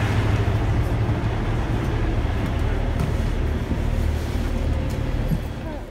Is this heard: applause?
no